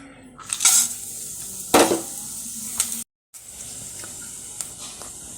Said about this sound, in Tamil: பட்டை கிராம்பெலாம் போட்டு தாளிக்க போகிறேன்.